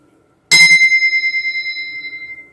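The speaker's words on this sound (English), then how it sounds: "Suddenly, they hear a bell ring." A single bright bell strike rings out loud and close, then leaves a long shimmering metallic tone that slowly fades over about two seconds.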